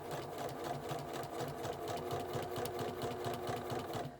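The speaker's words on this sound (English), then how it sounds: "we'll go ahead and sew that in the same manner as we've done all the other seams" A sewing machine stitches a seam in a LeMoyne Star quilt block with a steady, rapid needle chatter and motor hum. It runs nearby and fairly quietly, without a break, and no one speaks.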